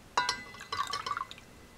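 Rainwater being emptied out of a fire straw fire-starting tube, coming out in a few quick splashy dribbles and trickles. The pour is close and quiet, with short gushes separated by brief pauses.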